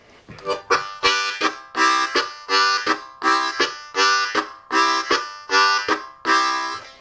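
Harmonica chords pulse in a chugging train rhythm, with repeated breathy bursts alternating in a steady, rocking pattern, close and clear.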